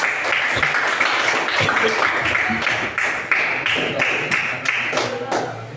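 Classmates clap after a presentation in a classroom: a dense, steady round of applause with individual claps and thumps standing out, and voices mixed in.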